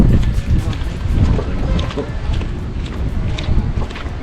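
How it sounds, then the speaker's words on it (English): Low rumbling boat engine and wind buffeting over the microphone at Bacalar, Mexico, steady and close, with faint voices in the background. "It's a boat, right?"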